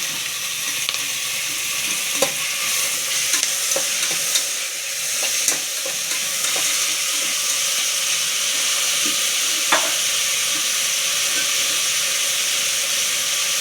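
Onion and tomato frying in a pan for chicken fry, with a loud, continuous hissing sizzle punctuated by occasional clicks and taps of stirring, close up and without any talking.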